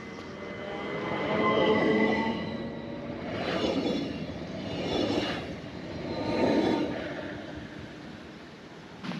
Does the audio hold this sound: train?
yes